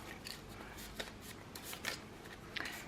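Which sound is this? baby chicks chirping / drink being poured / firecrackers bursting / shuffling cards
shuffling cards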